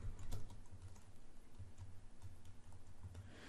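Fingers typing on a computer keyboard, a steady run of light, close clicking keystrokes in irregular bursts, fairly quiet and with no one speaking.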